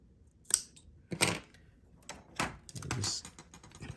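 Thread on a leather and Kydex business card wallet being snipped with small scissors, a few soft close crisp cuts and handling rustles, no talking.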